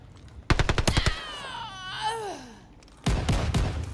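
Rapid bursts of gunfire in the shooter game Call of Duty Vanguard, a quick string of sharp shots, then a pause filled by a whining tonal game sound before another close, loud volley.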